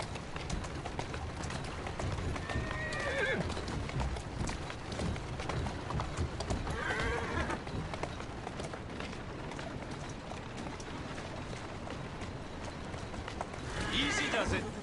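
Horse hooves clop in a steady gait in a PS4 video game, and a few whinnies rise over a busy game soundscape.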